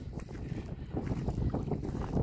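Strong wind buffets the microphone outdoors beside the water during feeder fishing, a steady broadband rush with gusty swells that grows louder toward the end, no speech.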